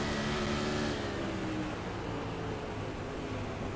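Onboard the number 08 asphalt sprint race car at Kern County Raceway, a loud, continuous engine roar with rushing wind noise that eases slightly after the first second, close and unbroken, with no talking.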